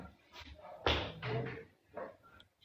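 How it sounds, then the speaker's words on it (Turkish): A door in a Turkmen comedy sketch takes a single heavy knock, loud and close, amid room noise and faint voice-like sounds. "Kapı çaldı."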